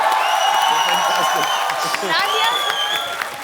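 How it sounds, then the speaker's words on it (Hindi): A studio audience at a comedy show claps and cheers for a performer, the applause running loud and continuous while whoops and a voice rise over it. "सुगंधा के लिए जोरदार तालियां"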